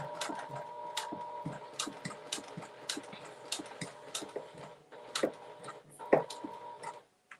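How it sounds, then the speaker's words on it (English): Sewing machine stitching a fabric notebook holder, a rapid mechanical ticking run broken into short bursts with brief pauses, close and moderately loud, with no voices. "I just started sewing."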